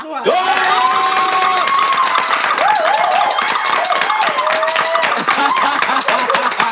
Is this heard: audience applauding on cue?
yes